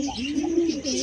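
A single soft, rolling coo from a pigeon kept at home, one brief low note rising and falling, close and fairly quiet.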